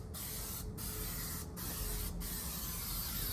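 Spray adhesive glue hisses from an aerosol can in several sustained bursts with short pauses between them, close and steady, while coating a car trunk carpet panel.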